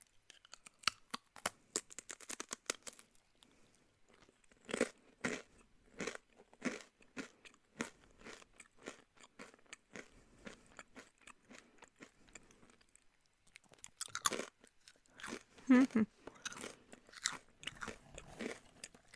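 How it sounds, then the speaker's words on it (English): Crackers are chewed right up against the microphone, with sharp crunchy bites and wet munching coming in irregular bursts. Short quiet gaps fall between them, and nobody speaks. "Chewing crackers in your ear."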